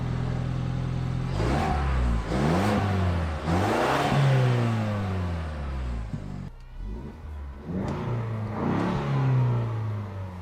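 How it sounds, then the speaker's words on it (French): A 2021 Ford Bronco with the 2.3-litre EcoBoost four-cylinder pulls away on a test drive, revving up and shifting through the gears in rising, falling sweeps, heard loud and steady from inside the cabin with no talking. "on a quasiment la sonorité d'un 4 cylindres européen classique"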